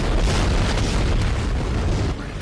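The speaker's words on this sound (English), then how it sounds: "You want to be careful with these guys because they explode." An enemy exploding in the Dead Space video game: one loud, close, deep boom that rolls out as a sustained rumbling roar, with no voices.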